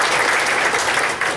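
An audience applauding during a classroom talk on teaching moral education, dense steady clapping from many hands that holds at an even level throughout.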